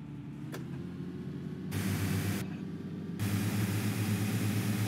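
Dennis Dart SLF bus engine running in limp mode in OMSI 2, a steady rough drone and hum that steps up in loudness twice as the revs rise, close and alone with no talk.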